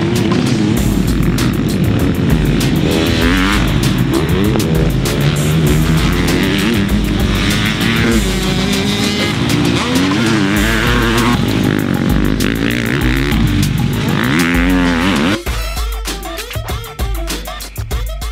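2020 Husqvarna FC250 dirt bike being ridden, a loud, buzzing single-cylinder engine revving up and down continuously, with changing pitch as the throttle varies, cutting out near the end into rougher, intermittent noise.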